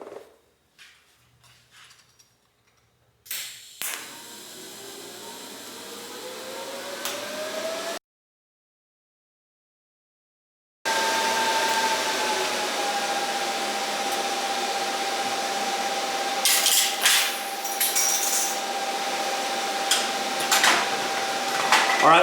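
A Miller Multimatic 220 welder running a bead on 240 V gives off a steady, close arc hiss with a thin sustained whine. A few faint clatters come first, then a brief silence, then the hiss holds to the end with no talking.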